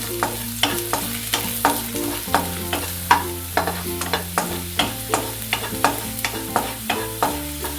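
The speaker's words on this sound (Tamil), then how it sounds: "பூண்டு நல்லா வதங்கட்டுங்க." Garlic sizzles and crackles in hot oil while a utensil stirs with steady scraping strokes, close and continuous, with low music underneath.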